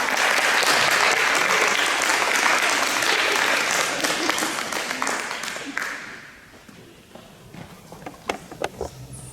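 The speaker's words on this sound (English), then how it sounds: "Let's give him a round." A board of education meeting audience breaks into loud, dense applause honoring a student, then it thins out after about six seconds into a few scattered claps and room noise.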